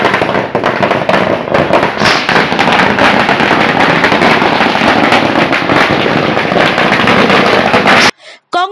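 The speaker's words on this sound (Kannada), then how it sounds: "ಪಟಾಕಿ ಸಿಡಿಸಿ ಸಿಹಿ ಹಂಚಿ ಸಂಭ್ರಮಿಸಿದ್ರು" Firecrackers burst in dense, rapid crackling volleys at a Congress workers' celebration in Durgada Bailu, Hubballi, loud and continuous for about eight seconds, then cut off abruptly.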